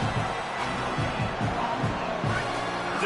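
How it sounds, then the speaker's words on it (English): Stadium crowd noise in College Football 27 during a Notre Dame versus Michigan game on 3rd down, a dense, steady roar with faint rhythmic pulses throughout. "Decibels rising as the crowd gets behind this defense on 3rd down"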